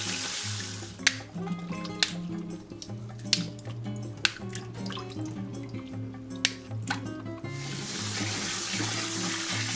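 Fresh ginger is rinsed under running water for tea syrup: a steady tap stream splashes into a basin, with sharp drips and clunks of the pieces knocking about, and tonal hum beneath, steady and close throughout.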